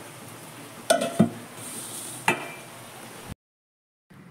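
A home cook stirs taro leaves with hilsa fish in a pan, bringing a few sharp metallic clinks and scrapes of a spoon against the pan over a low sizzle, then a brief silence.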